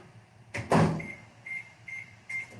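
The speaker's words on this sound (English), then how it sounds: "So pop this back in the microwave for about 10 seconds." A microwave oven door opens and shuts with a thud while white chocolate is warmed, followed by a series of short, evenly spaced electronic keypad beeps, close and fairly loud in a quiet kitchen.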